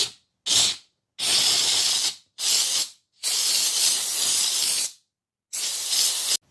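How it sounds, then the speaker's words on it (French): A Bestron multifunction high-pressure steam cleaner blasts steam onto a sofa in six loud hissing bursts of varying length, separated by short silences, with no speech. "on va jeter la vapeur sur mon canapé."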